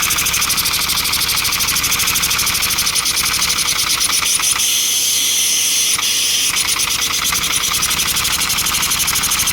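A small LEGO-built model engine starts and runs steadily, giving a loud, continuous buzzing drone of rapid, evenly spaced mechanical pulses with a faint hiss and no talking.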